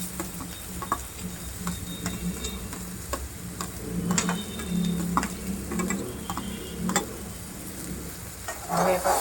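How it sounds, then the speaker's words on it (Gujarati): Onions fry in oil in a pan for sambar, with a continuous crackling sizzle, frequent clicks and taps of stirring, and louder bursts of spitting toward the end. "આપણે આ તાસડામાં તેલ મૂકી દીધું છે, એમાં આપણે ડુંગળી નાખી દઈશું બધી।"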